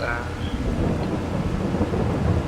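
Rumbling thunder and steady rain fill a farming video game scene during grass cutting in wet weather, a dense, continuous low roar with rolling swells; a faint bit of talk may sit beneath the storm.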